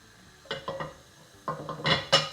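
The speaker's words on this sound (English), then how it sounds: "I'm going to add a teaspoon of cumin seeds." A teaspoon of cumin seeds tipped into two to three tablespoons of hot oil in a pan gives a few quick clattering, crackling bursts in two close clusters, fairly quiet and with no voices.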